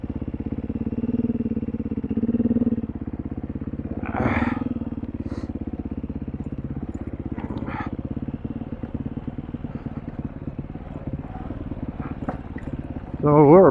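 A 2021 motorcycle rumbles along a road on an autumn ride, a steady, close engine drone with a rider talking throughout.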